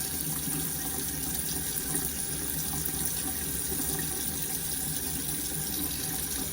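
Warm water runs steadily from a tap into a sink, a constant even splashing hiss with no pauses and no voices.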